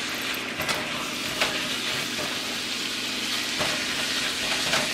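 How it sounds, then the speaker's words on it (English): Shepherd's pie filling simmering and sizzling steadily in a pan, a continuous close hiss with a few brief clicks and stirring knocks, no talking. "So you're gonna just let that simmer for a bit."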